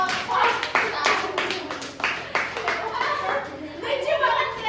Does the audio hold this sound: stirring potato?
no